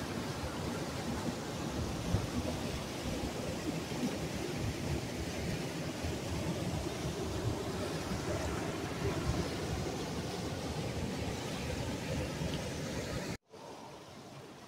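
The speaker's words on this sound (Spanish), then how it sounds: "viene caudal abajo, cayendo con ímpetu, como pueden ver, desde esas alturas" A river near Perquín rushes down from the heights in a steady, loud, continuous roar of falling water that stays constant throughout, briefly cut off near the end; no voices.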